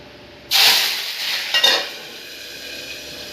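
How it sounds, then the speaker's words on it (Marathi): Bombay duck fish frying in hot oil in a wok: a sudden loud burst of sizzling as the fish hits the oil, a second crackling flare a moment later, then a steady softer hiss underneath. "स्वच्छ स्वच्छ धुवून झालेले बोंबीला आपल्याला कढईत तेल टाकून त्यामध्ये फ्राय करून घ्यायचे आहेत"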